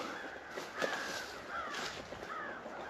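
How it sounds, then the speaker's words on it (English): Several harsh crow caws at a distance, scattered over a steady outdoor hiss, with faint rustling between calls. "I hear some crows going nuts"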